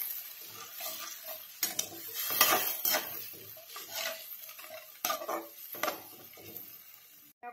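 Ground spices being stirred in a little oil and water in a pan, a spoon scraping and clinking against the metal with a light sizzle underneath, in irregular strokes at close range.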